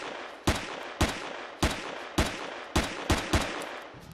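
Gunfire in the video game Empyrion Galactic Survival: seven sharp pistol shots ring out, spaced steadily then quickening toward the end, each with a short decaying tail, loud and alone.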